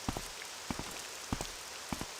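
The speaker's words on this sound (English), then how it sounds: "Maybe he's inside. It would be nice, because I can get out of the rain." Rain falling in the fantasy game Morrowind, running on the OpenMW engine: a soft, steady hiss of rainfall with faint, sparse patters of drops over a quiet background.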